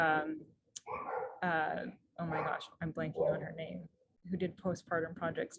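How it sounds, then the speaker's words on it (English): Dogs bark in the background of a home while a person talks steadily in the foreground, the short barks partly masked by the speech. "sorry about the dogs barking"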